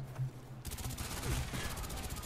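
Gunfire erupts in the PC game Call of Duty: Black Ops 1, a sudden burst of rapid close shots following a brief quiet moment, continuing as a dense volley.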